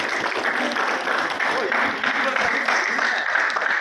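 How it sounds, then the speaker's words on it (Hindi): A hotel audience at a speech breaks into loud, continuous applause for a long-serving staff member, a dense steady clapping that fills the room, with voices mixed in. "इसलिए जोरदार ताली सुगम सर के लिए।"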